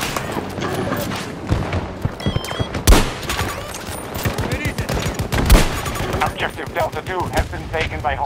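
Dense gunfire in Battlefield 2042: rapid machine-gun bursts and single shots crackle loudly throughout, with a couple of heavier booms and shouted voices mixed into the battle noise.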